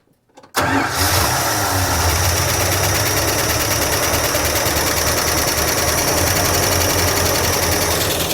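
Engine of a 1976 Dodge Adventurer pickup truck, parked for 13 years, cranks and catches after a moment of quiet, then runs at a loud, steady, rough idle with a fast mechanical ticking throughout.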